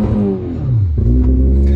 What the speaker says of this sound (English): She likes to rev down.